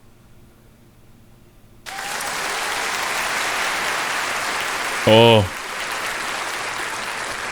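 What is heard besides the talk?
applause sound effect in the video game The Stanley Parable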